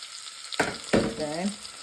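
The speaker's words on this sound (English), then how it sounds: "in that pot I just add a little onion, then add little pepper, my diced pepper, and add some of my crayfish" Onion, diced pepper and crayfish drop into a hot pot for abacha and crackle briefly, two sharp bursts of frying sizzle close up, quiet overall.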